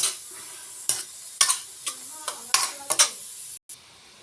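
Leafy greens fried with chili powder in a pan, a low sizzle punctuated by several crisp stirring scrapes and taps of a spatula, close up, with a brief dropout near the end.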